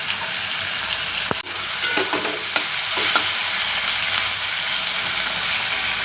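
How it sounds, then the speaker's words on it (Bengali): Chopped tomato and slit green chillies are added to a hot pan and stirred, with a steady sizzle of frying broken by a few sharp scrapes and clicks of the utensil early on. "টমেটো দিয়ে একটু ভেজে নিয়ে তারপর আমি মশলাগুলো দেবো।"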